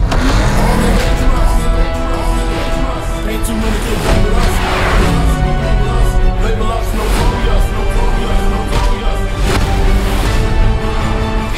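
Cars racing and accelerating in a high-speed chase, engines roaring and revving loudly throughout with tyre screeches and impacts mixed into a dense, continuous blast of action noise.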